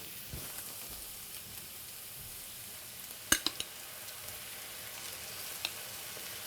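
Onions and tomatoes for Ethiopian bozena shiro frying in a pan give a soft, steady sizzle, faint and continuous, with a few small clicks and pops, and no talk.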